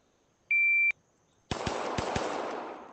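A pistol shot timer beeps once, a short sharp electronic tone, followed a moment later by a quick burst of four gunshots in a shooting drill, loud and close with no talking.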